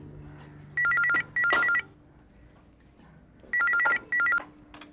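A telephone rings in two double bursts of bright trilling bells, separated by a short pause, loud and close in an otherwise quiet room.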